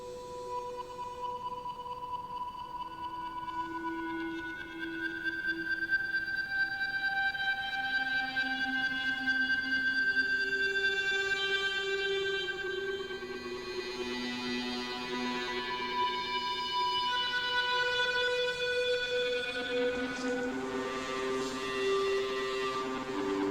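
Sustained synth tones with layered harmonics, growing gritty and more saturated partway through as distortion rises, ringing feedback-like overtones swelling and holding steadily.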